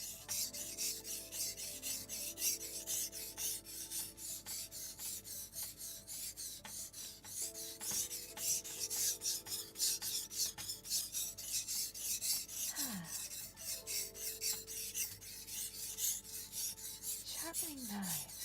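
A knife blade scraped in steady, repeated strokes across a whetstone, a continuous raspy grinding that runs for the whole stretch with brief pauses and faint pitch sweeps, close and without voices.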